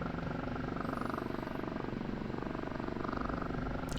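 OH-58D Kiowa Warrior helicopter flying in the DCS flight simulator. A quiet, steady rotor thrum and turbine drone hold evenly throughout, with no talking.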